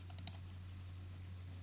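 A laptop is clicked a few quick times early on, faint and close over a steady electrical hum, then only the hum remains.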